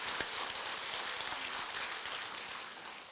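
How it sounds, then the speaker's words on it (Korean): A crowd at a 2018 healing concert and public ceremony held by Busan's Dong-gu district office gives steady, hissing applause, a dense wash of many clapping hands heard from some distance and fading slightly toward the end. "큰 부탁의 박수 한번"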